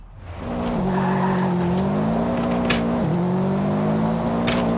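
A VW Golf R32 Mk.4 corners in Forza Horizon 5, a loud steady engine drone that rises and dips in pitch through the turn, with brief tire noise.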